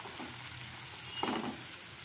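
Capsicum and other vegetables frying in a pan over low gas, a soft continuous sizzle with a brief louder stir around the middle, close and quiet, no speech.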